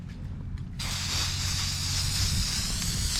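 Neon Rust-oleum spray paint hisses from an aerosol can onto takedown rod holders outdoors on a windy day, one steady close spray burst starting after a short pause and running continuously to the end.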